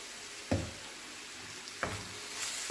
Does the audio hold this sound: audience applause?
no